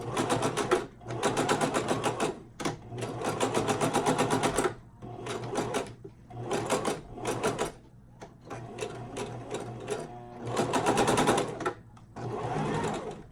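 A sewing machine stitches a closure wig, running in repeated loud bursts of rapid mechanical chatter separated by short pauses, with back-and-forth reverse stitching near the end of the seam.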